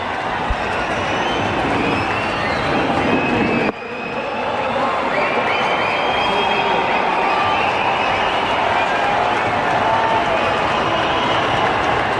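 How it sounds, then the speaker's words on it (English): Cricket crowd at the MCG during an Australia versus India one-day international, a loud, continuous roar of cheering that dips briefly and then swells again, sustained throughout. "the crowd have come alive"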